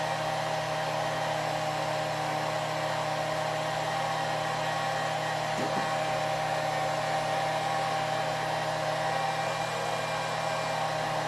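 A heat gun or hair dryer blows hot air onto vinyl wrap on a Honda S2000 shift ring, making a steady, loud, continuous whooshing hum with a constant motor tone that holds evenly for about eleven seconds.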